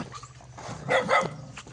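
A dog gives a couple of quick barks close by, two short bursts in the middle of an otherwise quiet moment, with no one speaking.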